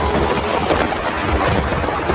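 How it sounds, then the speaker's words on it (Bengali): Cartoon thunderstorm sound effect with a steady wash of rain and low rumbling thunder under dense clouds, continuous and loud for the whole stretch with no voices. "চারিদিকে যে ঘন মেঘ, বৃষ্টি এলো বলে। বৃষ্টি আসছে"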